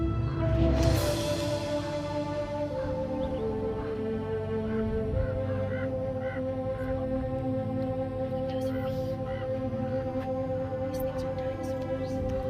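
Large birds honk nearby, one loud, harmonic call bursting out at the start, followed by a steady run of lower, droning honks.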